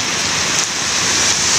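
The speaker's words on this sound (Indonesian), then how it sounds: "Panas tapi berbarengan sama hujan." Steady, dense hiss of rain falling without a break, loud and close, with no voices.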